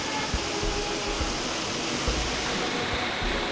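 Waterfalls at Plitvice Lakes in Croatia, where dozens of streams pour down, send out a steady, even roar of rushing water that holds broad and unbroken throughout.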